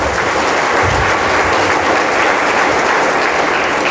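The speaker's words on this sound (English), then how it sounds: "So let's give her a round of applause." Steady, dense audience applause for a photographer at a Social Media Breakfast talk, loud and continuous throughout with no voices.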